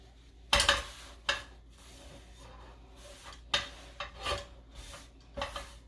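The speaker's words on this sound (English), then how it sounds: "So I'm going to wipe the veggies out. And I'm using the same pan." Cooked mustard greens are wiped out of a hot pan, brief scraping and rubbing strokes in irregular bursts against faint residual sizzling, close and fairly quiet with no talking.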